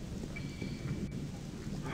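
Rain falling in the game Gothic: a soft, steady hiss of rainfall with a low rumbling undertone, fairly quiet and continuous, with no speech.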